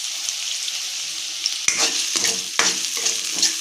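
Chopped onion and green chilli fry in a pan, giving a constant close sizzle broken by several scraping stir strokes, with no talking.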